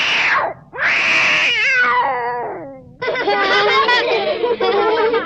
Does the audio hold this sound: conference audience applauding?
no